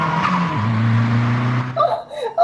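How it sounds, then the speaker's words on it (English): A car swerving crazily on a mess-strewn mountain road, staged as a radio play effect: a loud engine drone with a sustained tire screech, sliding for about a second and a half before fading. "and the car swerved crazily"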